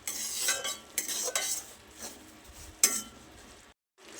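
Semolina (sooji/rava) stirred and roasted in a pan on a low flame for mango sheera, a spoon scraping and clinking against the metal in several short bursts, with a faint sizzle beneath.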